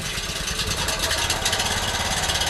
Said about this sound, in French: Mettre le moteur en marche